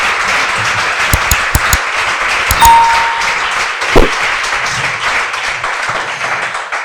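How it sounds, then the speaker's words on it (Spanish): An audience at a talks event applauds the speakers with a few scattered claps, moderately close. A faint ding sounds partway through. "esto va a ser tanda de aplausos"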